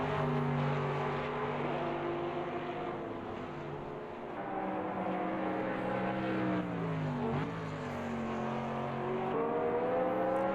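A Mercedes-AMG GT3 race car engine drones loud and continuous in a sim racing game, its pitch sliding up and down through gear changes and corners, with no talk.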